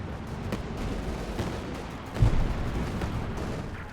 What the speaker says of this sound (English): Calliope barrage here from Shadics